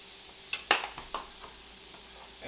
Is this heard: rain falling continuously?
no